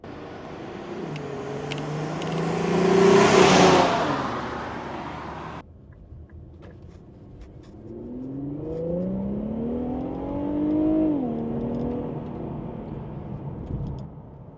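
An Infiniti Q50 Red Sport AWD fitted with an AMS intake accelerates hard to 60, the engine note climbing loudly through one gear, cutting off on a shift, then rising again through the next gear with a steady, close-up roar.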